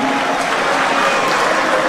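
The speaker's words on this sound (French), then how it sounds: "est-ce qu'on peut bien applaudir pour le Grand Kivu?" A crowd at a political party congress applauds for the Grand Kivu delegation, a dense, sustained wash of clapping that fills the hall without a break.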